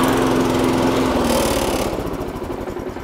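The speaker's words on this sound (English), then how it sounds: "that's how you start the petrol mower" A petrol push lawn mower engine runs loud and close right after a pull start, a steady buzzing drone that holds for a few seconds before easing slightly lower toward the end.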